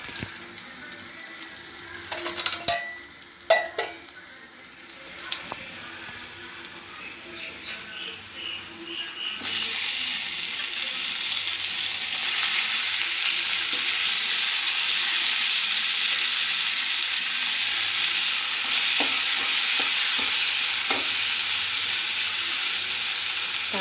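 Chopped tomatoes hit hot oil for an idly kurma and fry with a steady, loud sizzling hiss that builds and holds, broken by scattered stirring clinks and scrapes early on.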